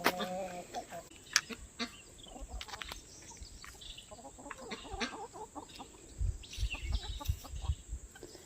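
Backyard chickens clucking and murmuring nearby in a garden, soft scattered clucks and short calls throughout, with an occasional louder squawk and some rustling and handling noise.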